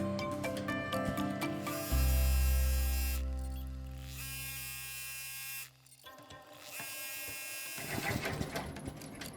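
An embroidery machine runs a tack-down stitch on fabric, a steady mechanical buzz with a deep hum through the middle, then a shift to a rattling, uneven whir near the end, close and fairly loud with no talk.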